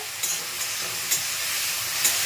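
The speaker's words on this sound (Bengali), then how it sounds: "চিংড়িটা বেশি ভাজা যাবে না চিংড়ি বেশি ভাজতে শক্ত হয়ে যাবে" Shrimp frying in a pan with a steady soft sizzle and hiss, broken by a few light clinks of stirring; no talk.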